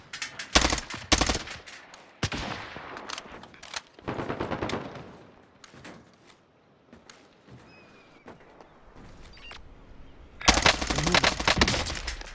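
Warzone Resurgence gunfire rattles in short automatic bursts and single cracks, some close and loud and others distant, with quiet gaps between them and a final heavy burst near the end.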